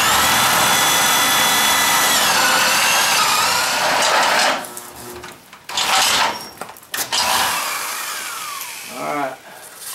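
A step drill bit bores large holes during work on a 1967 Ford F100, sized to fit a big pipe. A loud, close, continuous whine runs for several seconds, then stops and restarts in short bursts with rising squeals.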